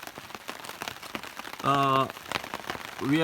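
Rain pattering steadily on a tarp shelter strung between trees in a New South Wales state forest, a dense soft patter under a voice, with short clear tones cutting through briefly.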